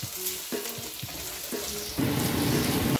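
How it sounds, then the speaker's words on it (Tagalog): Onions sizzle in a hot pan for fresh pancit while being stirred, with rhythmic scraping strokes and then a louder burst of frying crackle, close up and without speech. "Ayan, sunod na po natin yung sibuyas. Yan, halo-haloin lang muna natin yan."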